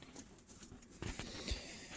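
Hungry baby goats bleat at a goat farm in Escambia, a few faint, short cries heard at a distance amid low background noise.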